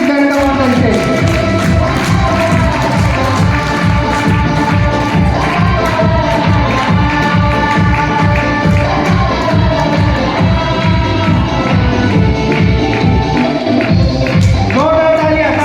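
A large crowd at an award function applauds steadily and loudly throughout, dense clapping with scattered cheers under continuous music and an announcer's voice.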